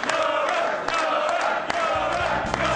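A crowd at a Mosconi Cup pool match cheers and roars loudly and continuously, voices blending into a sustained swell of noise.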